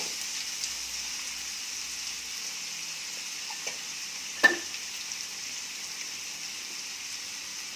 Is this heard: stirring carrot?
yes